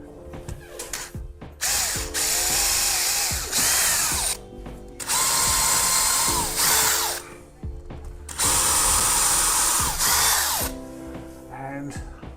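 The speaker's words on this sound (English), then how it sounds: "I've now drilled all 4 holes." A power drill whirs loudly in several long bursts while drilling holes to fit a door closer, each running a few seconds with short pauses between, close by.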